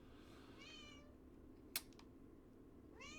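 A cat meows twice, a drawn-out call near the start and another at the end, heard clearly over a steady low background hum with a sharp click between them.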